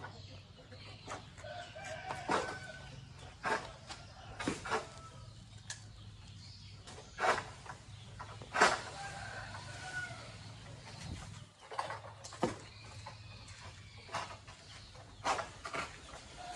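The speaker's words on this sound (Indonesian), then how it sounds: "kandang ayam." Chickens at a coop near an oil palm plantation cluck in scattered bursts, with a rooster crowing now and then; faint, moderately distant, over a low background hum.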